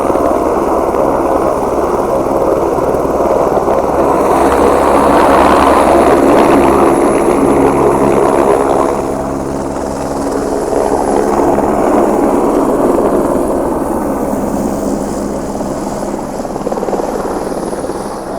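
A helicopter's rotor thumps and turbine whine fill the air continuously, loud and near, swelling and easing slightly as it flies on the Hemkund Sahib pilgrimage route toward Gurudwara Govind Ghat in the Himalayas.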